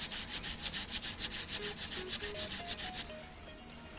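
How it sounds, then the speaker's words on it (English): Sanding off the edge of a part, heard as quick rhythmic rubbing strokes, close and fairly soft, repeating evenly for about three seconds before easing into a quieter scrape. "So just maybe sand off the edge here."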